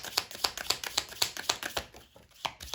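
A deck of cards being shuffled, a rapid run of crisp riffling clicks in a regular rhythm that slows and trails off near the end, close and fairly quiet, without talk.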